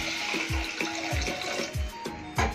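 A glass of water is poured into a pot of potato curry (aloo bhaji), making a soft splashing, gurgling flow with a few brief pulses, fairly quiet and close.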